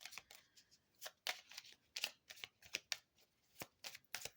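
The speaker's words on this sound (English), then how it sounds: "Let's pull an advice card for you" A deck of tarot cards being shuffled and a card pulled, with a quick series of soft riffling flicks and slaps close by, irregular and fairly quiet.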